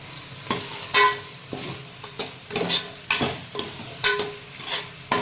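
Food for mutton biryani sizzling and being sautéed in a hot pan, with repeated scraping strokes of a spatula at an irregular rhythm, close by and without talk.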